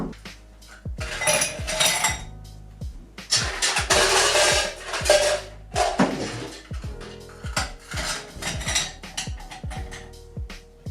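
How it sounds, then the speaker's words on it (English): Ice cubes are dropped into a gin glass for a raspberry and rhubarb gin cocktail, giving a series of sharp clinks and rattling clatters in irregular bursts, close and clear over a low hum. "put in your ice and fill up the gin glass"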